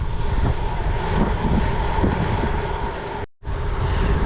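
Strong, steady wind buffeting the microphone while riding a gravel bike on an outing to a gouffre near Fontaine, a loud continuous roar with a brief dropout near the end.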